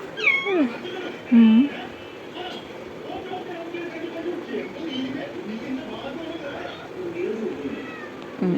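A cat meows and calls out several times near the start with rising, wavering cries, then the scene settles into a quieter indoor background with faint chirping and soft sounds.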